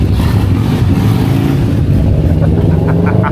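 A Z9 big bike engine revs nearby at a hillside resort in Pansol, Laguna, a loud continuous rough drone with pulsing throttle blips toward the end.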